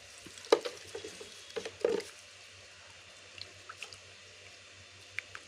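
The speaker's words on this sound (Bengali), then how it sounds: "জলটাকে নাড়িয়ে দেবেন" Water with tea leaves being stirred for a garden fertiliser mix, with a few soft swishes and sloshes early on, then faint scattered liquid ticks against quiet background.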